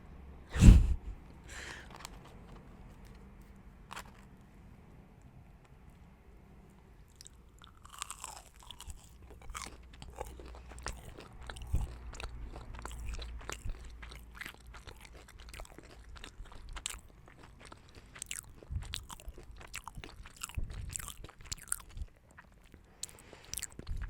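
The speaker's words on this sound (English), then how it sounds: "I have to start eating." Crunchy Burger King veggie tenders bitten and chewed close to the mic, steady crisp crunches and wet mastication continuing throughout, with a sharp thump at the start.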